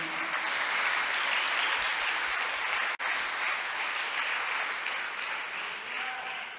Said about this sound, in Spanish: ¿Cuánto le dan palmas al Señor?